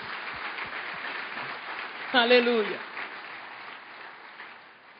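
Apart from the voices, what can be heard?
church congregation applause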